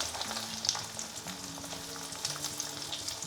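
Mustard seeds and unpeeled garlic fry in hot oil for a Karnataka saaru, giving a steady bright sizzle with scattered small pops and crackles, close and continuous, with no talking.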